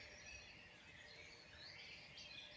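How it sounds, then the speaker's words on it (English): Blackbirds, robins and starlings singing outdoors, a faint but continuous mix of high chirps, whistles and warbling phrases overlapping throughout with a soft background hiss. "We're certainly hearing an awful lot of blackbird activity, certainly a lot of robin activity."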